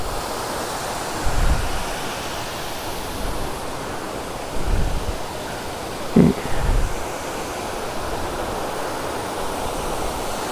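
Rushing water at Ananthagiri waterfall in Araku Valley, a steady broadband roar that continues without pause, with a few soft low thumps along the way and no voices.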